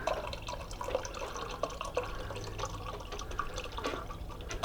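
Water flushing through a new RV water filter, a steady run of flowing and splashing water with scattered drips, close and continuous with no voices.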